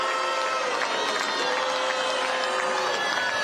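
A large crowd at a political rally for a South Carolina primary cheers and applauds continuously, a dense, loud roar of voices and clapping with occasional shouts.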